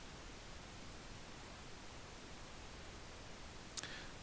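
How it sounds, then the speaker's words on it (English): Steady pink noise used as a reference signal for live sound system measurement, a constant broadband hiss filling the whole clip at an even level with no voices. "my reference channel is pink noise in this instance."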